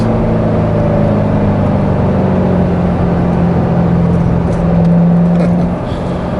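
Chevrolet C7 Corvette Z51 loafing along in seventh gear in Eco four-cylinder mode on a smooth road, a loud, steady low engine hum with road roar heard from inside the cabin, easing off slightly near the end, no talking.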